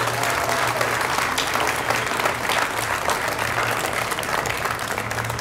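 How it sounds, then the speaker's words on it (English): Crowd gathered outside for the Canyon Country Community Center grand opening applauds steadily, a full, continuous round of clapping with a faint low hum underneath and no talking. "Let's give them all a round of applause."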